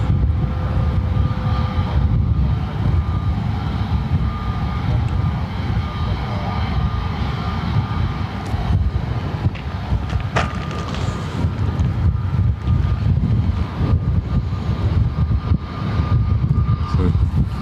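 Airliner jet engines at Lanzarote Airport give a loud, steady roar and rumble that holds throughout without a break, no voices.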